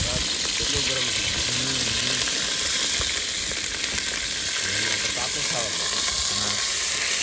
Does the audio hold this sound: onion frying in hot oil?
yes